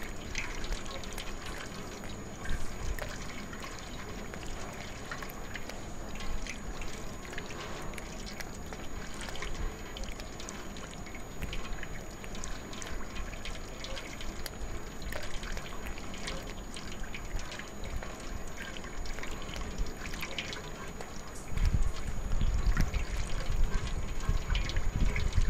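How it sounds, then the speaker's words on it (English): Water runs continuously in the video game Stray, a steady faint trickling and pouring that swells louder near the end, with some quiet background sounds. "Water finally."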